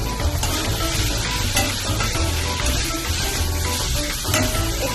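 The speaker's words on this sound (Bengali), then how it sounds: "আলুটা এর সাথে একটু কষিয়ে নেব।" Raw cut potatoes being sautéed in hot oil for a fish curry, giving a loud, continuous, close sizzle with a constant frying hiss and faint stirring noises underneath, with no voices.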